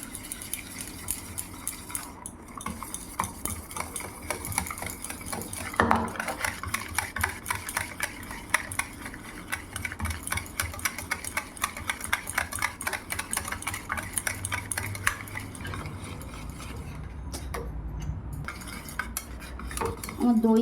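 Curd being whisked with sugar and milk in a bowl, with fast continuous rhythmic clinking and tapping of a utensil against the bowl for a long stretch and a few louder knocks.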